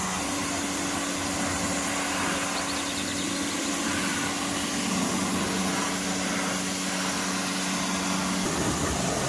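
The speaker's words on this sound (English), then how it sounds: "then just simply rinse it off with a pressure washer" A pressure washer rinses fallout remover off the wheels of a BMW M2, a steady, loud hiss and motor drone running without a break throughout, with no talking.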